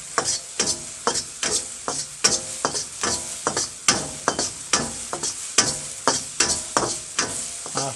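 Onion and garlic fry in a pan for fried rice with a steady close sizzle, broken by a regular rhythm of spatula stirring scrapes and clacks about twice a second, with no talking.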